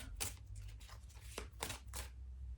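Tarot cards being shuffled by hand, several quick riffling bursts in a loose rhythm, close and fairly soft against a quiet background.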